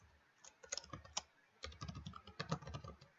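Someone types on a computer keyboard in a quiet setting, a faint, close flurry of key clicks in two quick bursts separated by a short pause.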